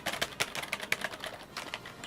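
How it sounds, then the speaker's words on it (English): Typing on a computer keyboard, a quick, irregular run of close, soft key clicks with no talk. "instead you would hear me typing"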